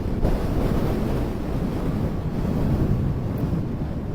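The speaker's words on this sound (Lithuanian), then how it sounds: "Nu jo, vėjukas iš tikrųjų" Wind blows steadily over a frozen lake in Sweden during an ice fishing outing, a dense, continuous rushing buffet close to the microphone with no talk.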